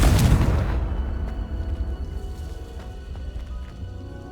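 A Confringo fire spell goes off in the video game Hogwarts Legacy: one loud, close blast at the start that fades into a long, rumbling decay, with faint game sounds after it.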